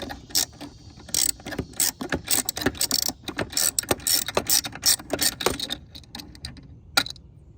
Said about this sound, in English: it gives me enough clearance to get that last bolt off